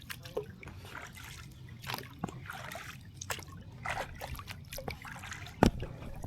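Gentle trickles, drips and small sloshes of Missouri River water against a paddled boat, scattered soft splashes over a low rumble, with one sharper knock near the end.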